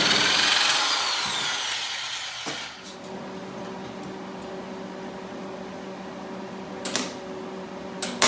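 A power tool cuts metal stock for a dune buggy roof rack, a loud sustained whine at close range that fades to a steady hum, with a couple of sharp clanks near the end.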